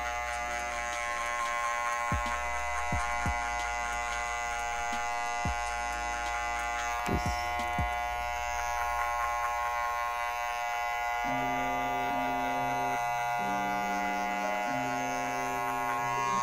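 An electric hair clipper with a closed number 1 guard buzzes steadily while cutting hair at the back of the head for a Cristiano Ronaldo style haircut. The hum carries on at close range, with a few soft clicks and a shift in tone partway through.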